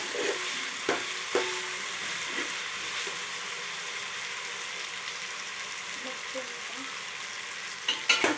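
Ginger-garlic paste and spices fry in a pan, a continuous bright sizzle with intermittent scrapes and clinks of a stirring spoon, busier stirring near the end.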